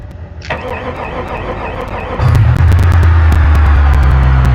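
A car engine in the driving game BeamNG Drive cranks briefly, then catches and settles into a loud, steady idle rumble with a faint ticking on top.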